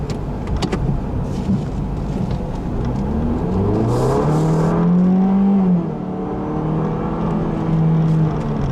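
2014 Ford Fiesta ST accelerating through the gears of a 6-speed power shift automatic, with the engine note rising loudly, dropping back, and climbing again over about nine seconds.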